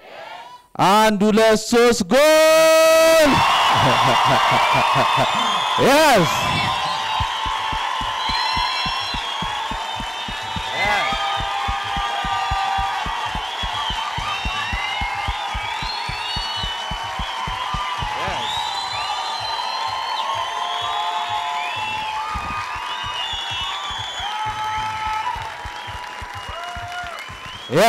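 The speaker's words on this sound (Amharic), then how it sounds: "ጎል ስል ኢትዮጵያ የዓለም ዋንጫ አሸንፋ እንዳለፈች ነው ጩኸት ፉጨት የምንፈልገው" An audience at a motivational talk erupts for a pretend World Cup goal with loud shouts and sharp whistles at first, then settles into long, sustained applause while a voice speaks briefly near the end.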